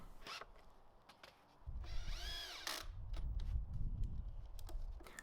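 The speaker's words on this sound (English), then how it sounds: "I get a couple of screws driven into each corner to lock it all together" A power drill drives 100mm decking screws into the wooden corners of a raised vegetable bed, giving a short whirring burst followed by rattling, ratcheting mechanical noise and clicks at close range.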